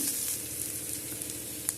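Chopped onion frying in oil with mustard seeds gives a steady close-up sizzle, with faint crackles and a brief stir or spatter near the end.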